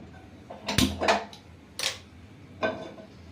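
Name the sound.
gas stove being lit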